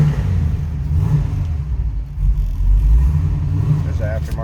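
Idling 6.0-liter engine in a 1969 Chevrolet Camaro coupe, a deep, steady, loud rumble with slight lope throughout, close to the car.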